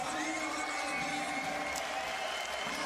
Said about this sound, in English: the crowd have erupted here